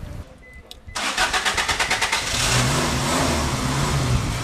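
An alternative fuel generator engine cranks with rapid rhythmic turning, catches and settles into a loud, steady running roar close by.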